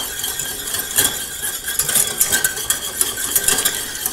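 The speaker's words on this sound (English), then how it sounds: "Whisk in that sugar and cinnamon" Whisk clinking steadily against a metal pot while sugar and cinnamon are stirred into a coffee syrup, a brisk, uneven scraping rhythm close up with no talk.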